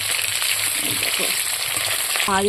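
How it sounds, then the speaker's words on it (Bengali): Rohu fish sizzles and crackles in hot oil, a steady frying hiss, with a brief tonal clink or squeak near the end. "প্রথম পর্ব দিয়েছি মাছ ভাজতে এটা মাছটা ভেজে তারপরে আরগুলো দেবো"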